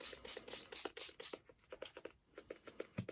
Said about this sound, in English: you need to give it a bit of a spritz